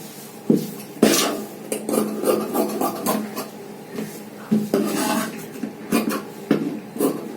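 Scissors cut through blouse fabric for a cross belt piece of a size 62 katori blouse, giving a run of crisp snipping and rasping strokes at close range, fairly loud and irregular, with no talking.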